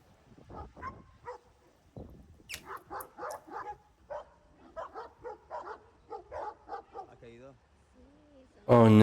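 A dog yips, whimpers and barks in short bursts, mixed with chatter and other voices, and a loud noise comes at the end.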